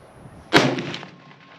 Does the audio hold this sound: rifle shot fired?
yes